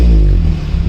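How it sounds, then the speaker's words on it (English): A 2012 Maruti Gypsy with a 1.6 Baleno engine and newly fitted headers rumbles loud and close in a brief steady low idle burst, with a slight throb as it settles. "right now I'll be starting the vehicle and showing you the header sound on this vehicle."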